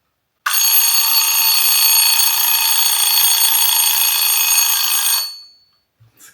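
Old mechanical alarm clock ringing in a loud, continuous metallic bell clatter for about five seconds, then fading out, close and alone.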